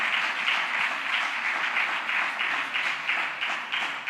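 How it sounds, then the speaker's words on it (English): Audience applause at a guild general assembly: a dense, steady wash of many hands clapping together, held at an even level for several seconds with no talk over it. "A round of applause for him"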